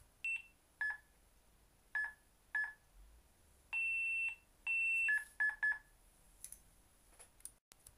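An HCR handheld livestock reader giving its special alert for an animal already counted, a series of sharp electronic beeps, some short and some held longer, close and clear, with no talking.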